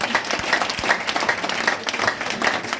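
A church congregation breaks into steady applause, a dense wash of many hands clapping at close range that carries on without letup and has no talk over it.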